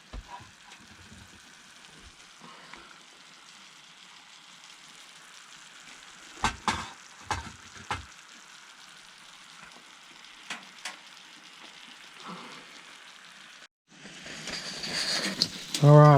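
Mushrooms fry in a pan at an outdoor winter camp, a soft steady sizzle with occasional knocks and clatters of stirring, before a louder rushing noise takes over near the end.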